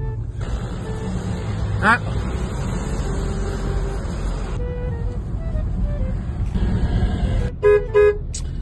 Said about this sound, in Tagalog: wag kang bumusina ng bumusina at baka maubos agad ang businang iyan